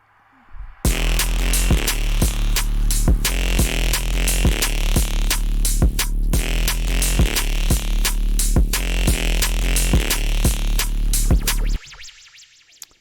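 A heavy synthesized bass made in Xfer Serum plays a punchy, rhythmic pattern of repeated notes for several seconds, loud and alone, then cuts off.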